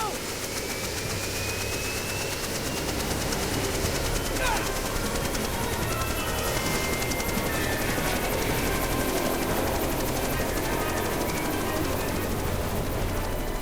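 Helicopter rotor in Jurassic Park: The Game on PC, a steady loud whir and drone running the whole time, mixed with other game noise and faint talk.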